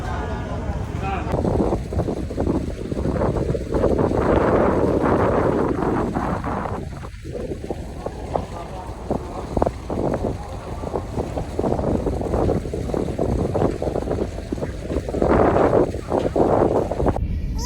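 On a ferry crossing toward Bali, strong wind buffets the microphone over the constant low drone of the vessel, a loud, continuous rumble with gusty surges throughout.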